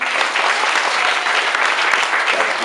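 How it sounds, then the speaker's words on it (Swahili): A church congregation claps for the Lord in a dense, continuous burst of many hands at close range, with voices mixed faintly under the clapping. "Pigie Bwana makofi"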